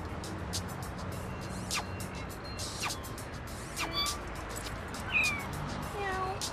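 Cartoonish cat meows from the game No More Heroes, several short calls scattered through a busy street-like backdrop with passing traffic rumble, a voice chatting briefly over it.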